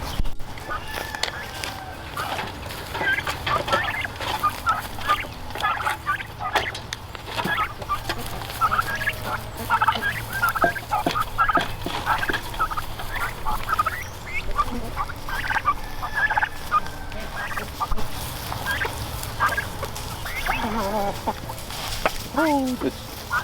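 Turkeys gobbling and chickens clucking on a farm, a busy chorus of repeated calls with overlapping bird sounds and occasional louder bursts, a person's voice mixed in at times.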